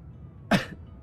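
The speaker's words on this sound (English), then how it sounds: "I coughed and it kind of hurts now." A single sharp cough, close and fairly loud, bursts out alone in an otherwise quiet moment with no talking.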